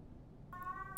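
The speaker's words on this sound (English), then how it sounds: "Sorry about my cat." A pet cat named Stina gives a single clear meow, close and fairly loud, rising out of a quiet room.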